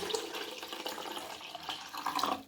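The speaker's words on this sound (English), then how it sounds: "I'm going to pour my stock back in." Film developer stock solution being poured back into its container, a continuous splashing, trickling liquid stream with small gurgling swells, close and fairly quiet.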